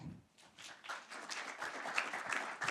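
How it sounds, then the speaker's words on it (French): Audience clapping for round-table speakers at a French military conference on deep strikes and air superiority, a dense steady patter of many hands building gradually from a quiet start. "On peut les applaudir."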